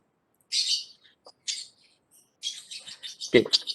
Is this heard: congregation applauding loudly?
no